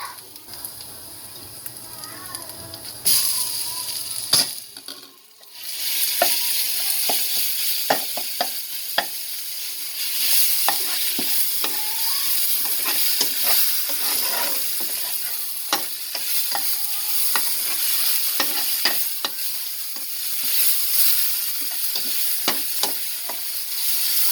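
Onion frying in a pan with ginger while being stirred for a chana masala curry: a loud steady sizzle that flares up after a brief lull, broken by scraping stirs and occasional taps, close by.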